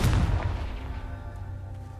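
A heavy booming blast from the Confringo spell in a Hogwarts video game, a loud deep impact that rolls off into a fading rumble over about two seconds.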